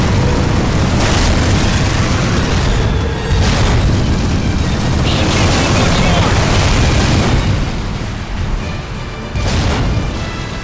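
Bombs explode in the Medal of Honor Rising Sun video game, a dense run of loud, deep booms and blasts over a constant rumbling roar, with voices shouting in the mix.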